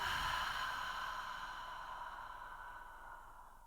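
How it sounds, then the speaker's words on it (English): During a yoga session, a person releases one long, soft exhale through the mouth that slowly fades away, close and quiet, with no talking. "Exhale through the mouth."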